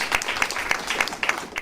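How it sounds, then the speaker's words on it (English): A group at a Toronto Jewish day school debate tournament claps together, a dense patter of hands with a few louder claps standing out, fairly close and steady throughout. "So let's give each other all a round of applause."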